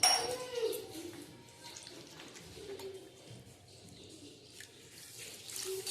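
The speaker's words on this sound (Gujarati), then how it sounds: "જો ખાંડ ડૂબે એટલું આપણે પાણી નાખ્યું છે." Water poured into a pan over roasted flour and sugar while making sweet dal, a steady running, splashing pour close by that eases off through the middle, with faint clinks of cookware.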